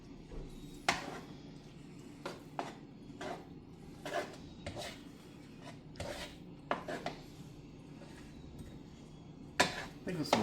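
Breakfast fried rice being mixed in a pan, with repeated clacks and scrapes of a utensil against the pan in irregular bursts over a low background hum, with a voice speaking at times.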